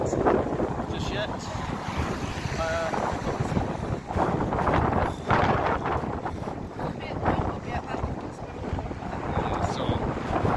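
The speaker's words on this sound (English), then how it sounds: "So the wind will be really hitting us." Strong wind buffets the microphone on an afternoon walk through Blackpool town, a continuous loud roaring rush with gusts under occasional voices.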